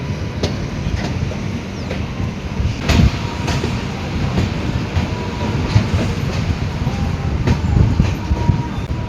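Passenger train 15655 from Guwahati to Katra rolls through Bhareli junction, heard from on board as a steady loud rumble with recurring clicks and clacks over the rail joints.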